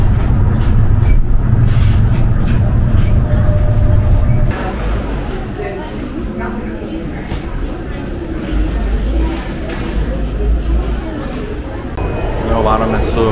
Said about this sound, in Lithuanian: Jau varome su savo žaliuoju metro